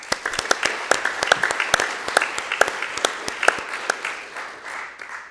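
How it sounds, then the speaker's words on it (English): Attendees at a community college board of trustees meeting give a round of applause for students, a sustained patter of many hands with distinct sharp claps, moderately loud and gradually easing off. "Can you please join me in a round of applause for our outstanding students?"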